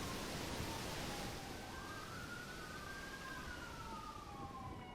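Wailing ambulance siren from a GTA roleplay game, a rising and falling tone sweeping steadily over a constant noisy background, moderately loud throughout with no talk.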